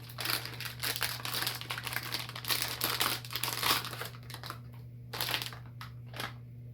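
Plastic parts bag for an Atomstack S20 Pro laser engraver crinkling steadily while being handled during unboxing, close and continuous with brief pauses, over a low steady hum.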